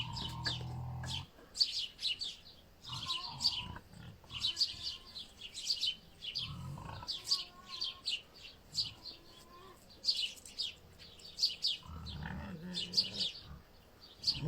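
A pig grunts in a few short, low bursts outdoors at sunrise, faint and intermittent beneath frequent, lively bird chirps.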